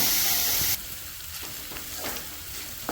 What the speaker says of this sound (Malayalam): ഇഞ്ചി എണ്ണയിൽ നിന്ന് നന്നായിട്ടൊന്ന് മൂത്ത് വരണം അതുവരെ നമുക്കൊന്ന് ഇളക്കി കൊടുക്കാം